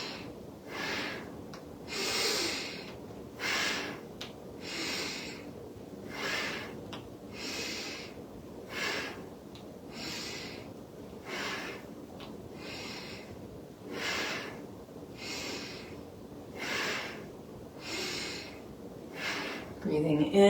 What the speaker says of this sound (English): making the breath a little more powerful